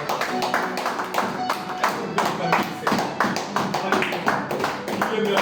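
A congregation at a Sunday evangelical service in Nantes claps and acclaims, brisk rhythmic hand claps falling in quick regular beats, mixed with raised voices and cheering close by.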